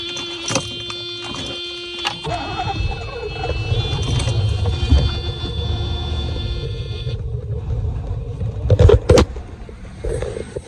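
Mercedes 420SEL engine on its first start after sitting, with fuel poured straight into the intake, catching and running roughly as a low uneven rumble with mechanical clatter and a few sharp knocks.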